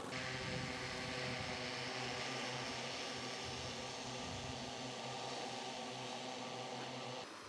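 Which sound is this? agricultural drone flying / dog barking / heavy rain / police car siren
agricultural drone flying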